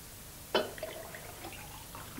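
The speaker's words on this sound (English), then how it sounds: "just put a bit in a glass and top it up with water." Water is poured from a jug into a glass with a splash of homemade lemon cordial, opening with a sharp splash followed by soft trickling and dribbling, faint and close, with no talk.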